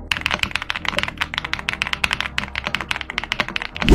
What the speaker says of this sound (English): The keyboard sounds very nice stock